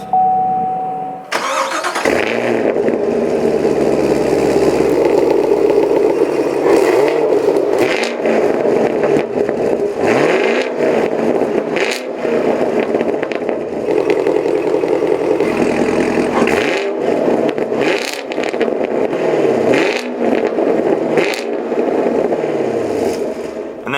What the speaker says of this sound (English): Press the button. Car roars to life.